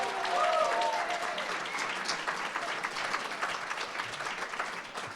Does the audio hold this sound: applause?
yes